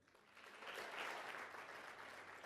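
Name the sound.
church congregation applause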